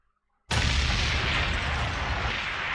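A loud explosion sound effect bursts in abruptly after a moment of silence, then rumbles on with a broad, roaring blast that slowly fades, with no talking over it.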